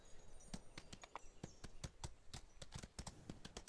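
Horse hooves clip-clopping in the Ostwind riding video game, a quick irregular series of sharp hoofbeats over about four seconds, faint and even, with no talk over them.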